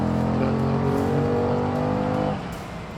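A 1966 Corvette drives along with a steady, loud engine drone and harmonic hum that drops off abruptly near the end as the throttle eases.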